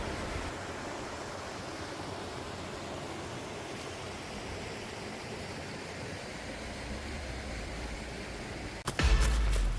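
Water rushing steadily down a mountain valley stream in a deep forested mountain, a dense unbroken wash of sound, ending with a brief louder rumble and knock near the close.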